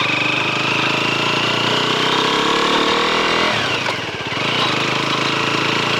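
A Leonart Daytona 125 motorcycle engine drones loud and steady while riding, its pitch easing down partway through as it slows, then holding on again.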